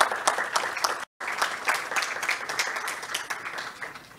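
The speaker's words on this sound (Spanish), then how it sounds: "Un fuerte aplauso, por favor." Steady applause from an audience at a mining forum, dense overlapping claps continuing throughout with a brief silent gap near the start.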